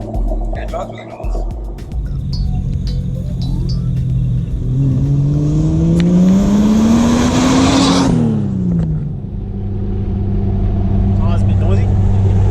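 A Nissan Patrol fitted with a Barra engine drives on a road, its loud engine droning and rising steadily through acceleration then easing off, heard from inside the cabin with steady road and tyre noise underneath.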